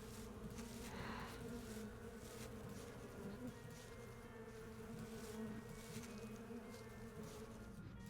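A dense swarm of bugs drones continuously in the horror game Sucker for Love, a close, steady buzzing hum that fills the scene without pause or talk.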